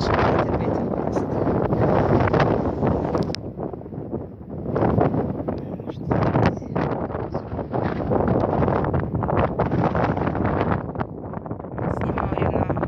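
Wind buffets a phone's microphone in loud, rumbling gusts that come and go, with brief calmer gaps between them, at a desert viewpoint among colored dunes in Georgia.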